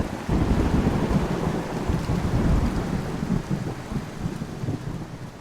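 Steady heavy rain pours with deep rolling thunder rumbling through it, a dense, loud storm wash that fills the whole stretch with no voices.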